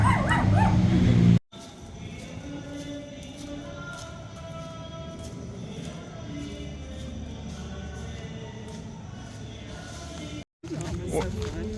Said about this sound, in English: And there's dogs.